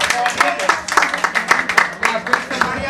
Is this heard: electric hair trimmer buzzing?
no